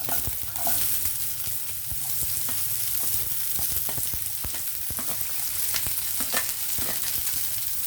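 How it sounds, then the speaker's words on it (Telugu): Onions frying in a pan with raw banana and capsicum for a stir fry, a steady close sizzle with crackling and occasional stirring scrapes throughout, no voices. "ఈ టైంలో మనం ఉల్లిపాయలు వేసేద్దాం."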